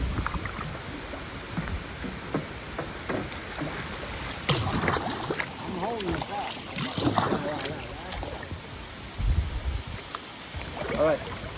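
Kayak paddles dip and splash on a wild river in rain, irregular close strokes and water swirls over a soft background of wind and flowing water, with a voice speaking now and then.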